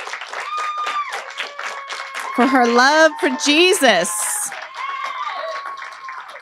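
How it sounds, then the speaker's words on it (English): A standing church congregation applauds with steady clapping beneath someone speaking over it, with a brief high-pitched voice rising above the crowd midway. "give her a round of applause"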